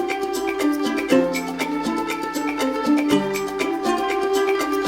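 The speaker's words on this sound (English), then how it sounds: "I put as well some trumpets that are doing the same thing" Strings and trumpets panned hard left and right sustain a soft atmospheric layer under a pulsing musical arrangement, steady in level with no talking.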